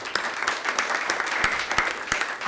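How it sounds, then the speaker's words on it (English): Audience applause at a tech conference session, a steady wash of many hands clapping with a few sharper individual claps standing out, fairly even and moderately loud with no talk over it. "another quick round of applause"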